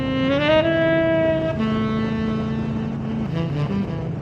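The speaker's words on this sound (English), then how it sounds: "here I am, riding my 350cc Royal Enfield on the outer fringes of Melbourne" A Royal Enfield Hunter 350 motorcycle engine drones steadily while riding on the outskirts of Melbourne, its pitch rising then settling as gears shift, with wind rush throughout.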